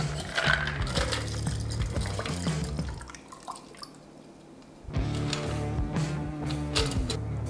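Cocktail strained from a shaker over fresh ice in a glass, giving a close, steady liquid pour with faint ice clinks, a brief lull midway, then the flow resumes.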